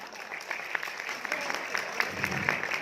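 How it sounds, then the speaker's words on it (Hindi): Applause from the audience at a live Hindi poetry and shayari show, a steady patter of clapping that runs throughout at moderate level with a few sharper claps standing out. "एक बार आप अपने लिए ताली बजा दो प्लीज"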